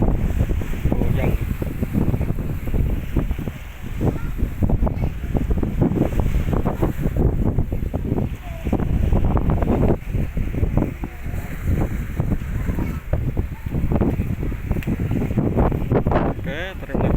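Strong wind roars steadily over a ship at sea, the KM Niki Mila Utama passing Komodo Island toward Labuan Bajo, with broadband gusting noise and buffeting against the microphone throughout and no talking.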